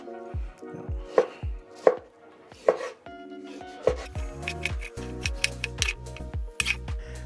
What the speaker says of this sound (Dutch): En dan kan je dit gewoon in blokjes snijden.